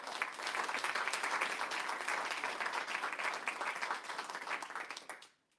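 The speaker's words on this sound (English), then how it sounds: "Round of applause." Dense audience applause at a public safety unions endorsement event fills the room steadily for about five seconds, then tapers off quickly and stops.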